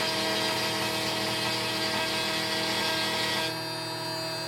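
A CNC router spindle cuts through material, a steady dense whine with grinding texture that holds level, then the pitch and load change near the end as the cut eases off; no voices.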